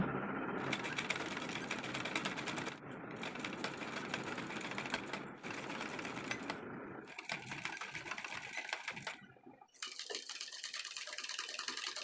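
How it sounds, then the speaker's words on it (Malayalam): A sewing machine runs in steady bursts as it stitches piping glaze onto the neckline of a pleated nighty. The motor whirs loud and close, pausing briefly between runs. "ആ ഒരു പൈപ്പിങ്ങിന് തൊട്ട് ചേർന്ന് നമുക്കങ്ങ് തയ്ച്ച് പോവാം കേട്ടോ"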